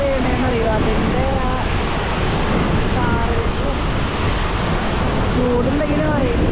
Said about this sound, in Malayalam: വെള്ളം എത്ര ആഴത്തിലെ വീണേന്നറിയോ